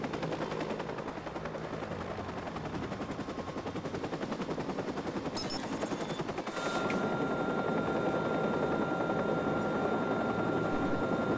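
A helicopter in the video game Watch Dogs gives a continuous rotor drone mixed with rapid gunfire bursts, steady and loud throughout with a brief sharp burst midway.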